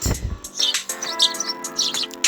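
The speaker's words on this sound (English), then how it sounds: "the birds chirping on one of the courtyard trees" Video game ambience of birds chirping in courtyard trees at a school, rapid bright tweets and trills layered over a soft sustained musical tone, with a brief low thump at the start.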